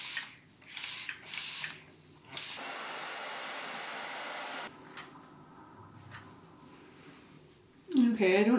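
Water sprayed onto hair from a spray bottle, several short hissing bursts followed by a longer steady spray, fairly close, with someone talking before and after.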